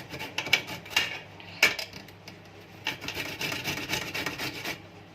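Carrots being grated by hand for carrot jam, a steady close rasping scrape with repeated strokes and a few sharper scrapes, no talking.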